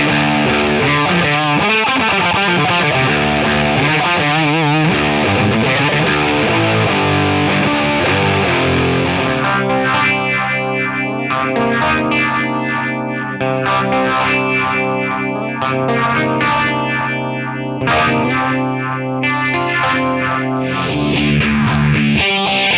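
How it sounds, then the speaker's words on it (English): Analog guitar effects pedal from Donner, its distortion, phaser and echo all on a continuous electric guitar riff, loud and dense, with sweeping swirl and trailing repeats and no one talking over it. "You're gonna get distortion, a phaser, and an echo."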